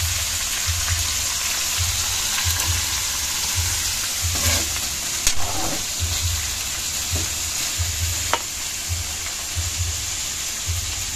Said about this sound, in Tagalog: Dito lang ako nagigisa.